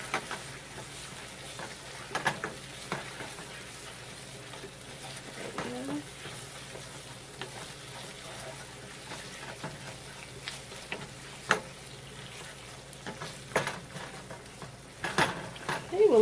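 Tikka masala paste stirred and caramelizing in a pan for chicken tikka masala, with a low steady sizzle and scattered scrapes and clinks of a utensil against the pan, moderately close.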